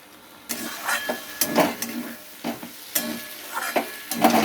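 Potatoes and poppy seeds fry quietly in a pan for aloo posto while a spoon stirs them, with a soft sizzle under a rhythmic series of scraping strokes.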